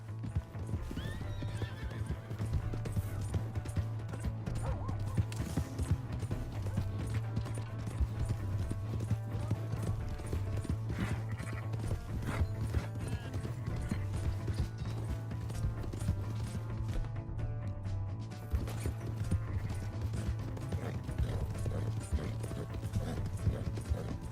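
Horse hooves gallop in a rapid, continuous clip-clop rhythm with occasional neighs, set against a low hum and game sound effects, in Red Dead Redemption 2.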